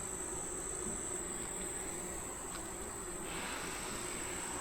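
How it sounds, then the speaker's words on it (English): Honey bees hum in an open hive as it is inspected, a continuous, even buzzing drone with a thin, steady high whine running through it and no voices. "Now I see lots of bees. Way more than there was the last time I was in here."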